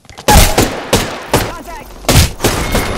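Gunfire in the Apex Legends battle royale game, with several loud close bursts of shots and impacts spaced across the moment, and brief game voice lines around them.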